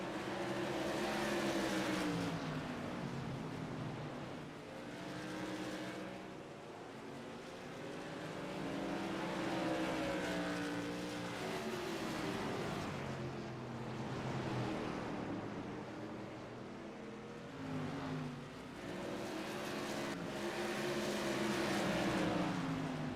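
Modified race cars lapping Thompson Speedway in a TRS Tour Modified Series race, engines droning steadily with rising and falling passes that swell and fade over and over, no voices.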